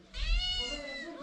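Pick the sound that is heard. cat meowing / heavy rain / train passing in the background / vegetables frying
cat meowing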